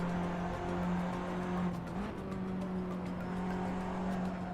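Tyre scrubbing in the RaceRoom racing game, a sustained tonal squeal over a steady engine note through a corner, moderately quiet and continuous.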